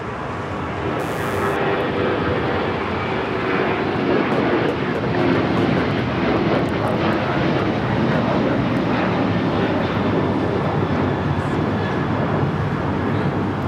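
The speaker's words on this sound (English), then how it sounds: "This is United Airlines 2377 taking off to Houston Intercontinental, the 737-900ER." A United Airlines Boeing 737-900ER jet takes off at Los Angeles airport, its engines producing a loud, steady, broadband roar that holds for the whole stretch, with voice traffic faint underneath.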